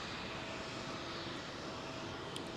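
An aircraft's auxiliary power unit runs at London Heathrow, a faint, steady broadband roar and whine heard from a distance with no voices.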